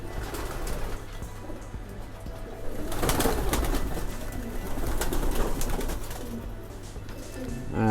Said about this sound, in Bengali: সবগুলো কবুতরে পাখা দেওয়া আছে যাতে ওদের পাখি কোনো সমস্যা না হয়